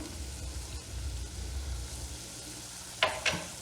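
Spices such as chili flakes, thyme, black pepper and salt sizzle with browned onions in a frying pan, a steady close hiss with a couple of sharper clinks near the end.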